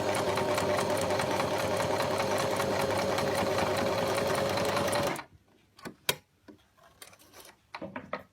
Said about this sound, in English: Now this is actually set to sew right down the edge rather than down the centre.